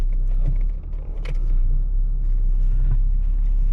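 A 2012 Ford Mustang with a 3.7L V6 pulls away, its low engine rumble steady and close from inside the cabin, with a brief dip and a few light mechanical clicks.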